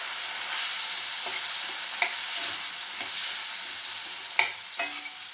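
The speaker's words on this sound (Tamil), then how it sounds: "பொடியை போட்டு நல்லா ஒரு கலக்கி ஒரு மூடி போட்டு கொஞ்சம் நேரம் வச்சிடலாம்." Ground spice powder being stirred into frying star gooseberry pickle in a pan, a continuous hiss of sizzling oil broken by a few spaced scrapes and clicks of the spoon, close and alone.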